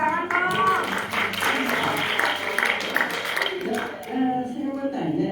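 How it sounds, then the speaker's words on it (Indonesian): Audience applause at a keto health talk and bazaar: scattered clapping runs for several seconds, mixed in with people talking, then fades as a voice takes over. "Tepuk tangan dong."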